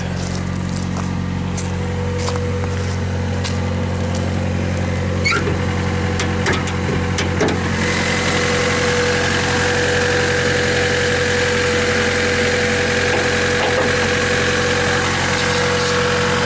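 Moderately stock car engine with add-on peripherals idling while it warms up, a loud, steady rumble with a few clicks early on.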